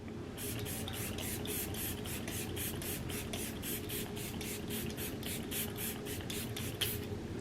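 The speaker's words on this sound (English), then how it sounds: "pop it off with the setting spray" Setting spray: rapid pulsing spray mist, about two dozen quick bursts in a steady rhythm, close and fairly loud, with no talking.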